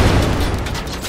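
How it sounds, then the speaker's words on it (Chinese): A bomber-style blast in the Greedland video game sets off a dense, loud barrage of rumbling explosive bursts that runs throughout, with no voices over it. "这个看起来真的好猛啊，像轰炸机一样，一炸下去，然后所有敌人都没"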